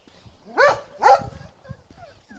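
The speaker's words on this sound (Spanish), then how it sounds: "Los perros, la única forma de hablar que tienen es ladrar." A dog barks twice in quick succession, loud and close, followed by faint softer yips and whimpers.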